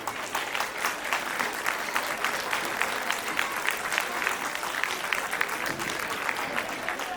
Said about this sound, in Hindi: कृपया अपनी तालियों से प्रमाणित करें कि यंगस्टर्स को कितने मार्क्स मिलने चाहिए